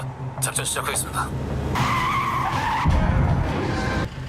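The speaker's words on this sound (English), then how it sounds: "타이어가 터졌습니다." A car tire bursts and the car skids in a dramatic film scene, with loud tire squeal and engine noise sweeping across over music and brief voices.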